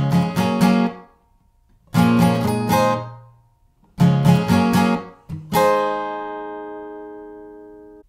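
An acoustic guitar strums chords for a song's pre-chorus, short bursts of quick strums separated by silent gaps, the last chord left ringing and fading out, close and clear.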